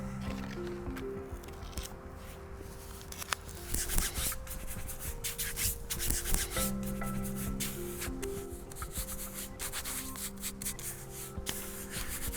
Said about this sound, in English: rubbing it to make sure the glue really goes off and it adheres really well.